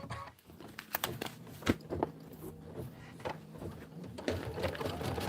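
An embroidery sewing machine stitches out a Kimberbell County Blooms pillow, a close run of rapid rhythmic needle clatter with sharp ticks and brief pauses, fairly quiet overall.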